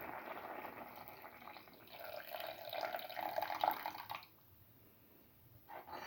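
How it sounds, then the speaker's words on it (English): Coconut milk poured into a simmering watermelon vermicelli soup mixture, a soft close liquid pour that builds for about four seconds, then stops abruptly, leaving quiet. "Now pour in coconut milk."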